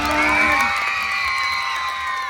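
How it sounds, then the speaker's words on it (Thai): Children cheering and applauding at a school sports day at Ban Nong Khu, a bright crowd of young voices shouting together with scattered clapping, sustained and fairly distant across the grounds. "อ่ะขอเสียงปรบมือหน่อย"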